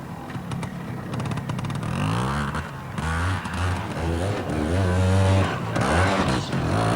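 Trials motorbike engine revving hard and fluctuating while riding through a competition section at Junior Kickstart in 1985, loud and continuous with rising and falling pitch across the whole stretch.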